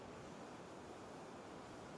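Ocean waves break along a shore in a steady, faint wash of surf noise with no distinct crashes and no voices.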